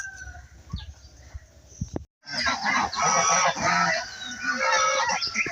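Village geese being fed on a morning farm honk faintly at first, then after a brief cut break into loud, dense, overlapping honking close by.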